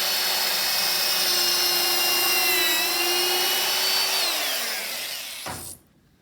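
A power drill with a star bit drilling screw holes in wood whines steadily at high speed for several seconds, its pitch sagging slightly near the end before it cuts off abruptly into silence.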